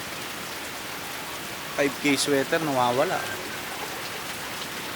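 Steady rain falls on a surface in a continuous hiss, with a person speaking briefly over it partway through.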